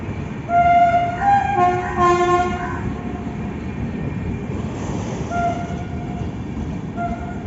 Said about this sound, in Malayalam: ഒരു ആന ചിഹ്നം വിളിക്കുന്ന പോലത്തെ ഒരു ഹോണാണ് അതിൻ്റെ.